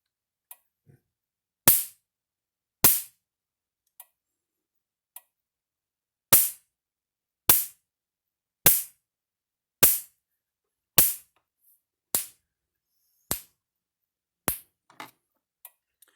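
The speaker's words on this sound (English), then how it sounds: "take a couple screwdrivers and we'll go across the terminals. You can see the thing spark." A PEL 450 electric fence charger arcs across screwdriver tips in a series of about a dozen sharp, evenly spaced snapping cracks, loud and close, each a crisp broadband zap with short decay and silence between.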